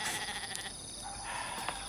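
A goat bleats in a village setting during preparations for a pooja, a short wavering cry over steady background noise, close and fairly clear, with no talk.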